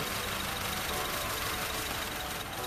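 A Honda Civic FD engine idles with the cylinder four plug pulled during a misfire check, a steady close rumble with a dense, uneven low-end throb that runs without a break.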